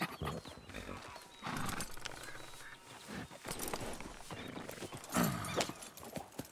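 A horse in Red Dead Redemption 2, mid-distance, with steady clip-clop hoofbeats and a whinny, its rider riding it hard while it barely moves.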